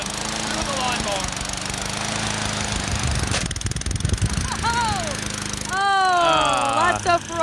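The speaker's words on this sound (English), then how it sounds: "Cornish Hen number one. Through the lawnmower." A lawn mower runs loud and close while a raw Cornish game hen is fed through it, its engine droning steadily before a rough, churning shredding burst, with excited voices talking over it.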